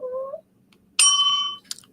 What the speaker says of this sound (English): I always wanted to ring that bell.